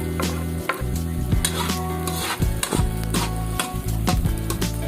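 Garlic and onion sautéed in hot oil for a mung bean dish, with a constant near sizzle broken by repeated stirring scrapes and spoon knocks against the pan, no talking.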